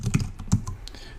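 Typing on a computer keyboard: a short burst of several crisp, uneven key clicks, close and clear, with no voices.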